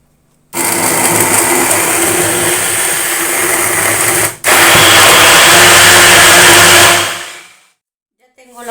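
An electric mixer beats pumpkin pie filling with a loud, steady whirring hum. It cuts out briefly partway through, resumes just as strongly, then winds down.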